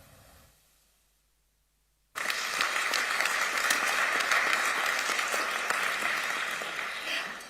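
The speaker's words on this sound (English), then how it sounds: "the Secretary General will have heard your applause, ladies and gentlemen" An audience at the Petersberg Climate Dialogue opening at the German Federal Foreign Office in Berlin bursts into loud, sustained applause after a near-silent pause, a dense wash of many clapping hands that fades slightly at the end.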